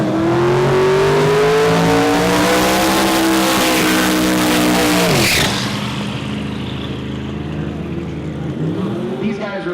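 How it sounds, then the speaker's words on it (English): A Pro Mod drag car revs hard through a loud burnout, its engine climbing in pitch with tire squeal before cutting back to a rough, throbbing idle and a final blip. "I'll line this bitch up in the paint over here and do a burnout."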